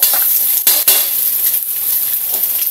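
Ingredients sizzle and fry in a pan ahead of leftover rice for fried rice, a loud, continuous hiss broken by a couple of sharp scrapes of a utensil stirring against the pan.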